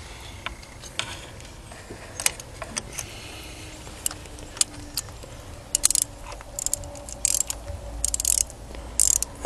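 Ratchet clicking as a new glow plug is turned into a VW Audi TDI engine, with irregular bursts of close metallic ticks and a few sharper clacks against faint background noise.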